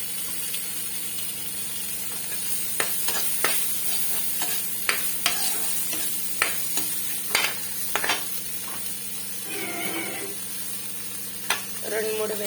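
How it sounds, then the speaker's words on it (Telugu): Garlic cloves and peanuts frying on a low flame, with a continuous sizzle under a low hum and frequent sharp taps and scrapes of a stirring spoon against the pan. "రెండు మూడు వెల్లుల్లి, పల్లీలను అయితే ఫస్ట్ ఇలా సిమ్లో బాగా ఫ్రై చేసుకోవాలండి"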